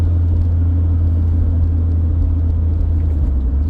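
A stock first-generation Honda CR-V (RD1) fitted with a Yonaka catback exhaust drones with a steady, loud, low rumble while driving, heard from inside the cabin with the windows down, with no talk.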